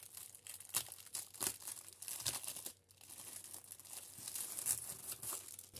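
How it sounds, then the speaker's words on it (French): Paper crinkling and crackling during the unboxing of a parcel of books and a decorative sword, a steady run of close, bright rustles with a brief pause partway through. "C'est un papier qui fait du bruit"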